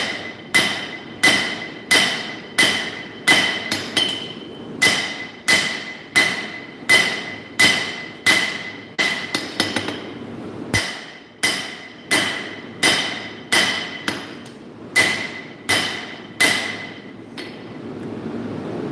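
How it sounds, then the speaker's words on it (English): A hammer forges gyuto knife blades in a steady series of sharp, ringing metallic strikes, about one per second, with a brief break midway before the rhythmic pounding resumes. "Yeah, I'm forging more Gyudos."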